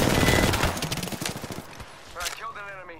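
Rapid automatic gunfire in the shooter game Apex Legends on PS4 rattles in dense, loud bursts for over a second, then thins out as a voice and game effects take over.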